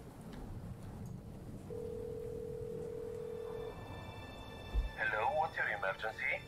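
A telephone dial tone from the PC horror game Last Days of Lazarus sounds as a steady, even hum for about two seconds over faint room noise. A voice then begins speaking.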